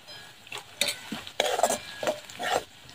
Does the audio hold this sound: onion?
yes